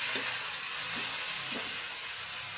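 Half a kilo of chicken browning in a pan with onions for adobo, a steady loud sizzle and hiss of frying with faint stirring clatters underneath.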